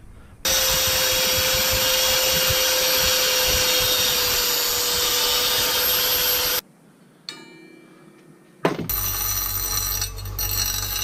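A power drill boring holes in a Volkswagen Golf 2 GTI 16V during a turbo kit install, a loud steady whine for about six seconds, then a pause with faint clicks before the drill starts up again.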